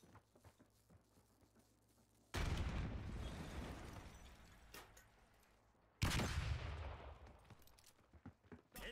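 Call of Duty match: a sudden heavy grenade blast bursts out of quiet background gunfire, a second explosion follows a few seconds later, and each blast fades as scattered shots continue.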